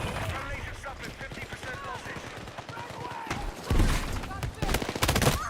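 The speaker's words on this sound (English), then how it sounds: "Mortars, that kind of changes things a bit, doesn't it?" Mortar fire in Battlefield 6 sounds as a dense run of booming blasts and scattered gunfire, with heavy impacts building loud and close toward the end, while someone talks throughout.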